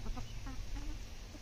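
Faint, soft clucking from a few chickens close by, short repeated calls over a low rumble of background noise.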